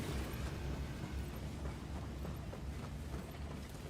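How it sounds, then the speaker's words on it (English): Grenade blasts from the video game Helldivers 2 rumble low and continuous beneath a dense wash of battlefield noise, with no distinct individual booms standing out. "we're just going to toss some grenades over"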